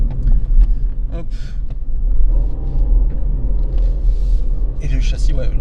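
A Ford Fiesta accelerating on a road onto a 110 km/h highway gives a loud, steady low engine rumble and road noise inside the cabin, with someone talking over it.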